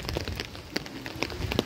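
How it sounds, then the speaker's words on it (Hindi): Rain patters steadily on surfaces outdoors in cold, windy weather, with scattered louder drops over a soft, continuous hiss. "ये देखिए देखिए यहाँ पर कितनी बारिश हो रही है।"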